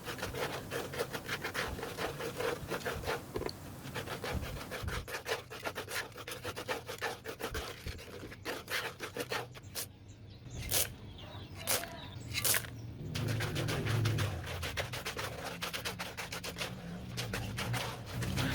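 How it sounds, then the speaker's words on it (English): Concrete of cement, sand and stone is mixed by hand for DIY paving stones, a continuous gritty scraping and rasping with rhythmic strokes and a few sharp knocks, close and steady throughout. "We can just add some more cement, some more sand, some more stone, and then mix it up again"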